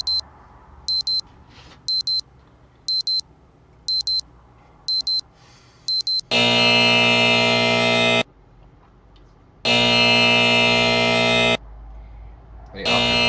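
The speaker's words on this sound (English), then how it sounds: "For his alarm going off and off and off and off" An alarm beeps in quick repeated pulses, then switches to long, loud continuous buzzing blasts separated by pauses.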